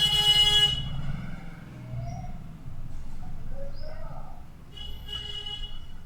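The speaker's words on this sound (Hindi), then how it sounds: "थोड़े हॉर्न आ जाते हैं, इस पर ध्यान मत दीजिएगा आप लोग" A car horn honks briefly at the start, followed by quieter traffic noise and faint bird calls in the background.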